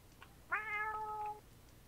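A person imitates a cat, giving a single drawn-out meow of just under a second, clear and close against a quiet background.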